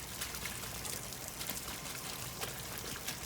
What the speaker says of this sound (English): Filter the water coming from the tank through some fabric.